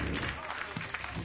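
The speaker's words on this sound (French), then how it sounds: "Et une petite salve d'applaudissements pour Flora Micula, mesdames et messieurs" A crowd applauds at a French gourmet festival honoring its godmother, a dense wash of clapping throughout, briefly overlapping voices.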